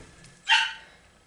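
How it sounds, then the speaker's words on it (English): A small puppy gives a single sharp bark just beyond a room where soap is being cut, short and fairly close, standing out against quiet surroundings. "That's my little puppy. He wants in here, but he can't be in here while I'm cutting soap"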